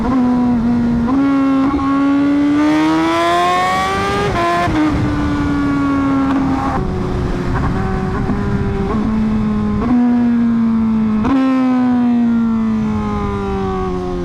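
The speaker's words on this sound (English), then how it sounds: "Listen to the sound of the Fireblade" Honda Fireblade motorcycle engine at speed, a loud close harmonic wail that rises and falls through repeated gear changes and throttle swells, continuous with no talk.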